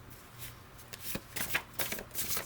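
Playing cards are riffled and shuffled up close, a quick series of soft flapping bursts over a couple of seconds.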